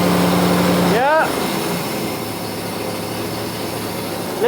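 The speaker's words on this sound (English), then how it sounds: "Listen to that. Smooth idle." A 1980s Mercedes AMG Hammer V8 idles steadily in a smoky garage as a low, constant hum. A short squeal sweeps past near the start.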